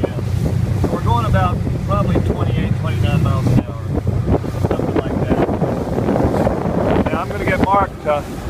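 Boston Whaler boat with a Mercury 150 four-stroke outboard accelerating across choppy water, engine drone under heavy wind buffeting and hull slaps, with people talking over it.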